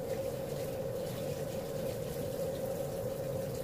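Running water streams steadily over whole shrimp being rinsed for a seafood boil, a continuous close splashing rush with no talk.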